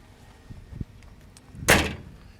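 The heavy cab door of a John Deere 850L dozer swings and shuts with one solid thud, preceded by a couple of small latch clicks, close up with no speech.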